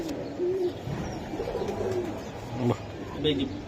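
A pigeon gives soft, repeated coos at a Bangladeshi pigeon market, low and fairly close, spread across the clip. People talk alongside it.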